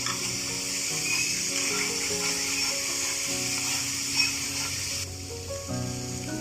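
Masala paste fries in a pan for a katla fish curry, giving a steady, even sizzle and hiss close by, with a faint tonal hum underneath and no voices.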